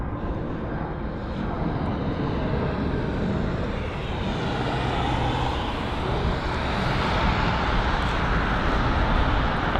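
An Airbus A320 departing runway 09 right at London Heathrow, a continuous jet engine roar that swells gradually as the aircraft accelerates, heard from a distance with steady broadband rumble.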